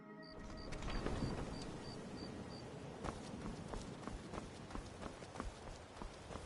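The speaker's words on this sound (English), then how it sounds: "God damn it, Carl, your horse is running rapid again." A horse gallops in a PS4 video game, its quick, steady hoofbeats drumming faintly and evenly over a soft background hiss, with no talk over it.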